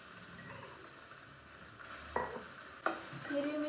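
Green chili and garlic paste fries in oil in a pan, a faint, steady sizzle under two sharp scraping strokes of a spoon against the pan.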